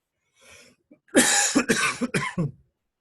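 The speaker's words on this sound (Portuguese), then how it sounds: "eu começo a tossir facilmente" A person with cold-triggered bronchial hyperresponsiveness coughs in a close burst of three or four harsh coughs, preceded by a faint breathy throat sound, with no talking.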